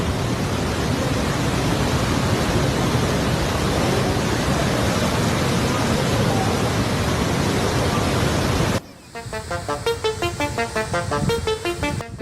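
Massive water waves rush toward a bridge with a loud, steady roar of churning water that cuts off abruptly near the end, replaced by quieter rhythmic background sound.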